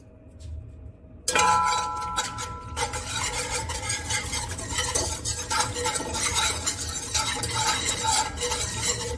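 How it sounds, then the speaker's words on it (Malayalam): A spoon stirs a flour mixture with salt in a pan, the filling for chicken kunafa, producing steady close scraping and clinking that starts abruptly after a quiet moment and continues without break. "നമുക്കത് മിക്സ് ചെയ്യാം"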